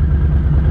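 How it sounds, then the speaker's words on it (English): A Harley-Davidson Softail Standard motorcycle idles at about 1100 RPM through aftermarket Vanstein exhaust pipes, giving a steady, loud, close low rumble with an even pulsing beat and no talk over it. "Can you all hear the rumble? That's those Vanstein pipes."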